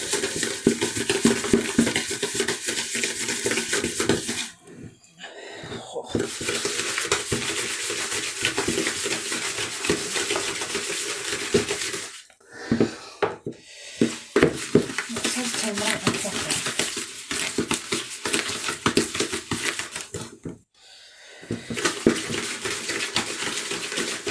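Spoon mixing Christmas pudding cookie dough in a bowl, giving close, scraping, rubbing strokes that run in long stretches broken by a few short pauses.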